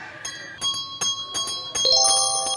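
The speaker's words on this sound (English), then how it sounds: "now I'm gonna ring this bell" A bell in a bakery rings several times in quick succession, each strike bright and clear with a lingering metallic tone, close and alone.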